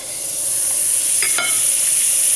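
Butter sizzles loudly and steadily in a hot pan as a pizza grilled cheese sandwich is set down to fry, with a brief scrape or clatter near the middle.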